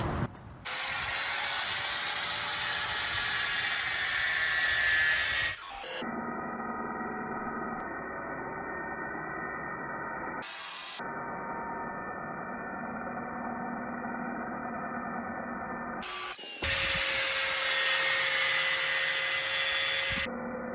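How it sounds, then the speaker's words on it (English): An angle grinder cuts down metal stems on the hubs of a pedal go-kart, with loud, harsh whining bursts separated by short pauses while the motor idles and spins down. "It's these stems right here. So I'm gonna grind them down."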